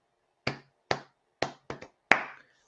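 Five sharp hand claps in a short uneven rhythm, close and crisp against silence, the last one loudest, as a teacher sets a pattern for a class to copy.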